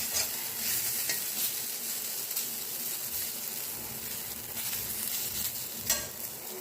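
Potato bhujia frying in a pan, a steady close sizzle with scraping stir strokes and occasional sharper spatters, no voices over it.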